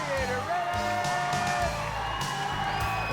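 A studio crowd cheers for a contender facing the gladiator Siren on the swinging rings at American Gladiators: a continuous loud roar with whoops and yells layered over it, steady throughout.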